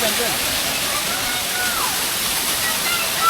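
Steady rushing water from a small monsoon waterfall at Devgad in Konkan, a continuous close hiss and splash with no letup.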